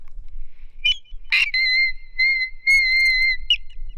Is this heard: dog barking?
no